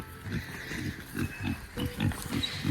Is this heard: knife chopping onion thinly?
no